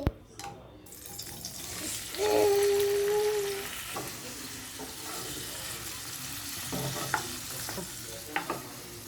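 Paneer and mushrooms stirred and frying in oil in a pan, a steady low sizzle with scraping stirs and occasional clinks, plus a brief tonal hum partway through.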